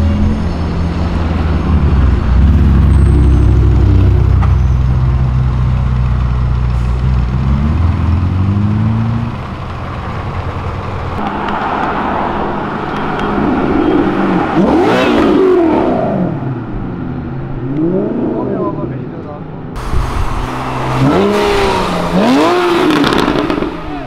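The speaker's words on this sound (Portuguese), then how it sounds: "Pega essa Lambo acelerando" A Lamborghini engine revs loudly and close, its pitch sweeping up and down repeatedly with crackling exhaust pops.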